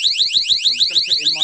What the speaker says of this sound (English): As soon as somebody comes in, sets the alarm off.